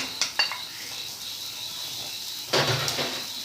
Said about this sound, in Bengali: পেঁয়াজ গরম তেলের মধ্যে দিয়ে দিচ্ছি পেঁয়াজ মরিচ